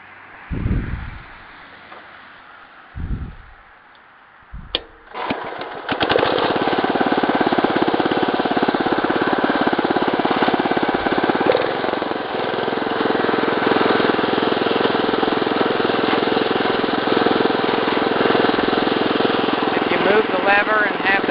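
After a few low thumps and a starting rattle, a Wheel Horse 875 garden tractor engine settles into a loud, steady, close idle that runs on without a break.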